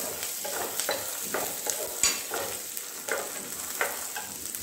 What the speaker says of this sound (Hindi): ये हरी मिर्चें जब फ्राई हो जाती हैं और क्रिस्पी हो जाती हैं